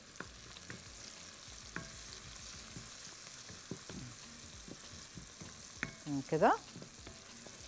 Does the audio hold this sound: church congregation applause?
no